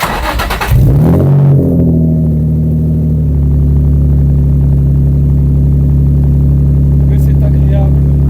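A Nissan 350Z cranks and fires up, then settles into a loud, steady idle with a deep exhaust drone that holds for several seconds, close to the car.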